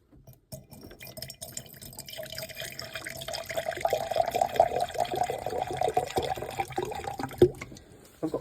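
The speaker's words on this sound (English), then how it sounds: "Just going to pour out 300 mils and then evaporate it off" Hydrogen peroxide solution pours into a container in a steady liquid stream that builds and rises in pitch as it fills, ending with a light clink, close and clear with no talk.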